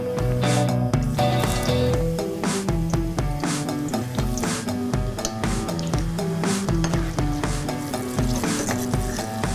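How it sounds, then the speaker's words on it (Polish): Steady sizzling and crackling of eggplant frying in small batches in hot oil, with occasional scraping and stirring clicks, continuous and fairly close. "Bakłażana smażę małymi partiami."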